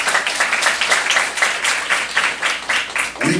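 A church congregation at a Saturday worship service claps together in a fairly rhythmic, steady applause, loud and close, lasting a few seconds.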